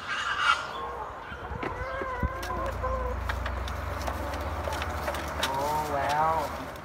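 Backyard chickens clucking and calling in a wire-fenced pen, close and fairly steady, with soft human voices talking alongside them.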